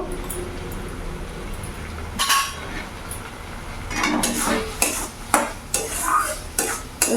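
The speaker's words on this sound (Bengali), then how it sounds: "এবার ভালো করে মিশিয়ে নেব" A spatula stirs chopped tomato through a pan of pointed gourd and prawns, giving repeated scraping, clattering strokes in an uneven rhythm over a soft frying hiss, close and with no talking.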